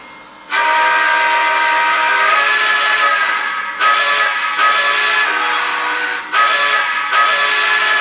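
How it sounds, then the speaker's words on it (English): A Lionel Legacy O scale Pennsylvania Railroad K4 4-6-2 Pacific model steam locomotive blows its whistle: one long sustained chord, then a few shorter blasts with brief gaps, loud and close, no talk. "And now we'll go with the whistle."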